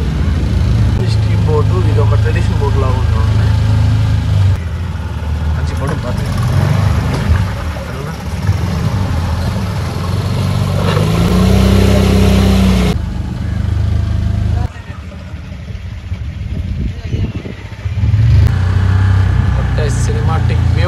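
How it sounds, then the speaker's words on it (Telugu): A traditional boat's motor drones steadily on the Poovar backwaters, a loud, continuous low rumble under someone talking almost throughout, with a brief dip in the noise partway through. "స్టీమ్ బోటు, ఇది ఒక ట్రెడిషనల్ బోట్ లాగా ఉంటుంది."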